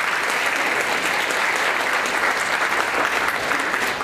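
Dense, steady applause from a community theater audience in Bemidji fills the whole stretch at an even, loud level, with no talk on top.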